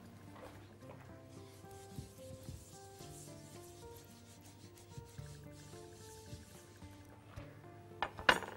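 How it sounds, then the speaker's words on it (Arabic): Oiled paper or cloth rubbed around a frying pan, a soft, quiet scraping and rubbing with small clinks near the end, heard alone against faint background tones. "بنمسح بس الطاسه"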